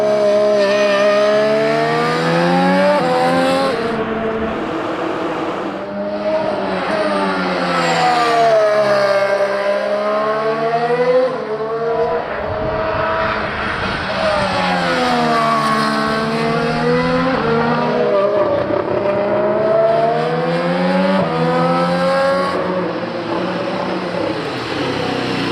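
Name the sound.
Williams Formula 1 race car driving on track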